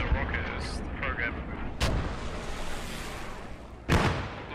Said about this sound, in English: Hey, AT guy, feel free to fire your rockets.